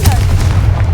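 A Confringo spell explosion in the Hogwarts Legacy video game, a brief, loud, close boom with a heavy low rumble.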